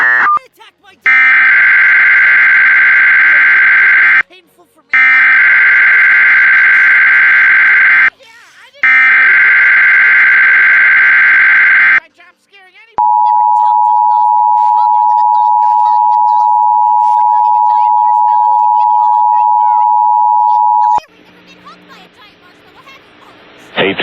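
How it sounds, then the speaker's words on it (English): Emergency Alert System header bursts, each separated by a gap, then a long steady single attention tone, loud and alone, issued for a tornado watch broadcast. "The following tones will activate the emergency alert system."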